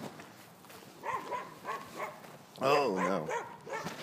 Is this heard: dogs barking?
yes